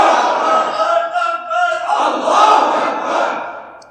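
A crowd in a mosque loudly chants a religious slogan in unison, with rising and falling calls that carry through the whole stretch.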